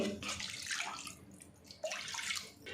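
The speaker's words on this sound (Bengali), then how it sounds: "এবার এর মধ্যে আমি জল দিয়ে দেব" Water poured into a drumstick leaf paste gravy, a broad splashing rush that swells twice across a few seconds with a short lull between, close and moderately loud, no voices.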